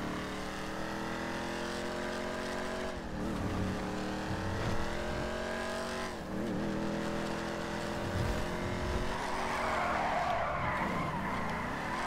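A Trans Am style muscle car drifting in Grand Theft Auto V, a long loud engine roar with sustained squealing tyres that rise and fall through the slide, close and continuous without pause.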